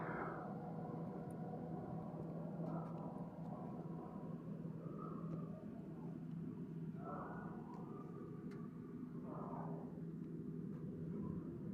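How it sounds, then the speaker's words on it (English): A Renault's cooling fan whirs steadily as it cools down, a constant droning hum that holds without a break. "You can hear the fan cooling down on it as well."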